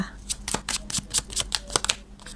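Tarot cards are shuffled and drawn from the deck in a rapid series of crisp, close flicks and slaps, with a soft voice present in the background.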